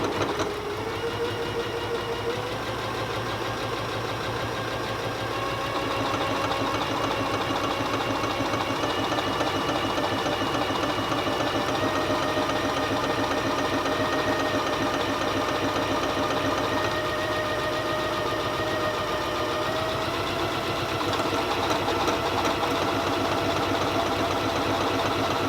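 A Janome Skyline S3 sewing machine stitches a buttonhole, its steady rapid motor hum and needle chatter running continuously and fairly loud for the whole stretch, with no talking.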